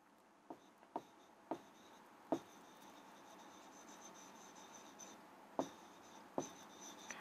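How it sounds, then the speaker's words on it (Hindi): Chalk or marker on a board during a chemistry lesson, a series of short, sharp strokes and taps spaced irregularly, fairly faint against a quiet room with no talking. "तो मैं यहाँ लिख देती हूँ"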